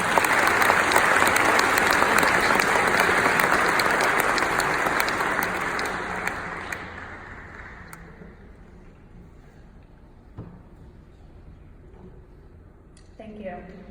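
A graduation celebration audience at NC State's College of Engineering greets the keynote speaker with loud, sustained applause. The clapping fills the hall for several seconds, then fades to a quiet room with a few scattered sounds.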